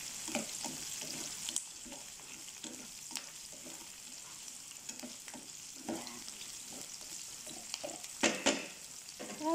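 Onion sizzles quietly in a pan under soft, intermittent stirring scrapes. A few louder clatters come near the end.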